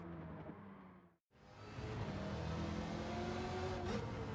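A 1970 Chevrolet Chevelle SS 454 Sport Coupé's engine roars steadily in Gran Turismo 7, cutting out briefly as if on a gear shift before pulling again at a loud, even drone.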